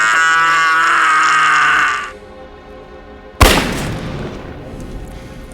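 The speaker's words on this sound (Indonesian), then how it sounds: "Arthur kembali ke markas dan tanpa basa-basi langsung menembak Jelon, hingga ia pun tewas." A single loud, sharp gunshot rings out in a cowboy film, with a reverberant tail. It comes after a louder, sustained passage fades to quiet.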